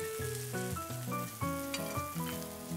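Meat for a Brazilian-style barbecue sizzling steadily in the pan, a soft continuous hiss running under louder melodic background music, with no voices.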